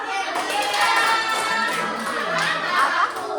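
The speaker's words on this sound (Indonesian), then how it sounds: "Tepuk tangan." An audience applauding at a classroom or school event, a dense, fairly loud burst of clapping mixed with cheering voices that carries through the whole moment.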